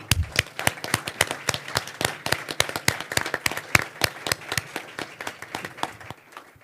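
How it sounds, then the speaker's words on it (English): A student government and city council audience at a joint meeting claps steadily for several seconds, a dense run of sharp individual claps from a modest crowd, fairly close and loud, tapering off at the end. "We do a round of applause for Emily."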